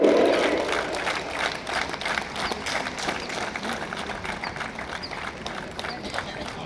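Children applaud loudly in a steady, sustained wash of clapping at an outdoor school sports meet during the torch ceremony, continuing evenly throughout with a voice briefly audible near the start.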